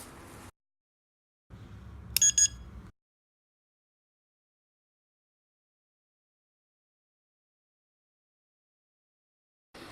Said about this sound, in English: long pressing the program button until you hear a sound of beep